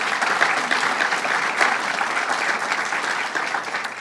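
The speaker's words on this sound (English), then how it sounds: "Let's give her a big round of applause." A crowd at a Long Island public event with the governor gives a big round of applause, steady and loud dense clapping that carries evenly from start to finish.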